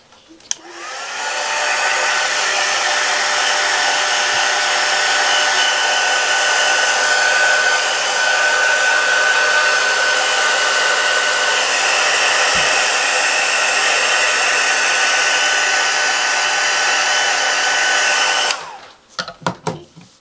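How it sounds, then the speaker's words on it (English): A heat gun blows steadily over a scrapbooking printer's tray to clear glue bits, a loud continuous airy roar that starts abruptly, holds for about seventeen seconds, then cuts off into brief handling clatter. "I'm going to run it over with a heat gun"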